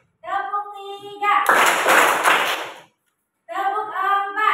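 A group of children clapping their hands in a classroom counting clap game, a burst of rapid, dense claps lasting about a second and a half, with speech before and after.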